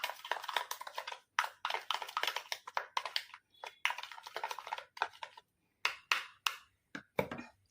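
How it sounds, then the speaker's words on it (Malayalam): Face pack ingredients are stirred in a bowl, giving quick bursts of close scraping and clinking strokes in an uneven rhythm, separated by brief pauses and stopping short near the end. "എന്നിട്ട് നമുക്ക് ഇതെല്ലാം കൂടി ഒന്ന് മിക്സ് ചെയ്യാം"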